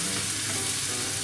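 Onions stir-fried in a pan until soft, giving a steady, close, dense sizzle with no pauses and no voices.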